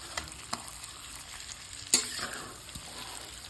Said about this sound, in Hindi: अभी आलू फ्राई हो रही है